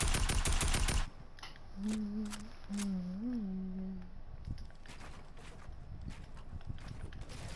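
Rapid Fortnite gunfire crackles in a fast burst at the start, then sparse single shots and clattering follow at moderate distance, with a voice briefly speaking over the middle.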